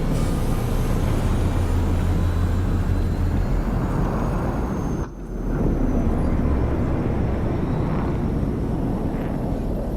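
A private jet aircraft in the Cyberpunk 2077 video game roars with a steady loud broadband engine rumble and whine, continuing for several seconds with a brief cut midway, no talk over it.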